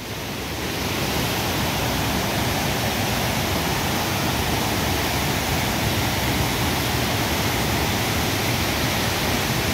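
Large river that splits into two branches near homes, its water rushing in a dense, loud, unbroken roar that swells in within the first second and holds steady throughout.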